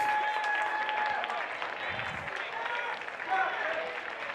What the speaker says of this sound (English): getting a good round of applause from the service fans right above him in the box seats